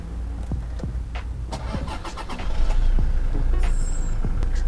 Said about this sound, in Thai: ขออนุญาตสตาร์ทรถเลยนะคะ